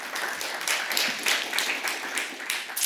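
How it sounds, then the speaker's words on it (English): Applause at an inclusive early warning conference session, a steady dense patter of many hands clapping at moderate loudness for nearly three seconds, with no speech over it. "Please give him a warm applause."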